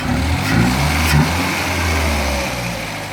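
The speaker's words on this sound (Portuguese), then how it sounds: "Mas o motor tá funcionando bem, tá subindo de giro legal." A freshly rebuilt Fiat Endura car engine revs up loudly and steadily, its pitch rising and holding, close by with no talking.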